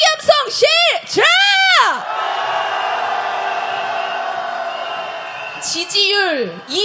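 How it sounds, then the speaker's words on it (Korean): Crowd at a street protest in Hongdae demanding impeachment, loud sustained shouting and cheering for several seconds, framed by a man's amplified calls at the start and end. "탄핵의 함성 시작!"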